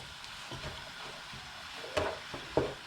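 Cooked rice, turning yellow as it is mixed, is stirred and fried in a hot pan. A soft sizzle runs throughout, broken by a few sharp scrapes and clanks of the utensil.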